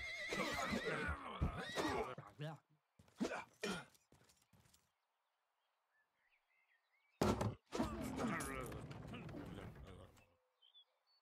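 A horse neighs in the video game Rustler, a loud whinny with clanking game mechanisms and thuds, in two busy bursts separated by a quiet gap.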